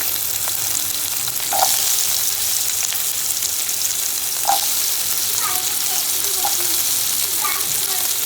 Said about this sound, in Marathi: आणि कॅप्सिकम आता सॉटे करूया.